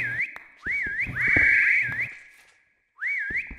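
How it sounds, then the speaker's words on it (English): A Minecraft character whistles while vein mining in the Crazy Craft modpack, a bright looping whistle tune repeating over clicky mining taps and block breaks, with a short quiet gap before the whistle returns. "the whistling while I vein mine is pretty annoying"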